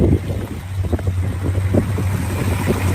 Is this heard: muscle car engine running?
yes